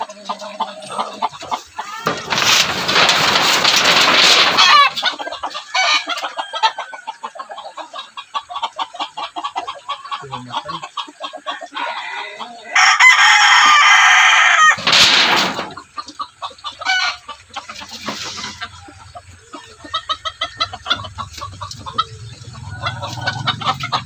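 Chickens cluck nearby throughout while a rooster crows loudly twice, the calls standing out clearly over the rustling farmyard noise.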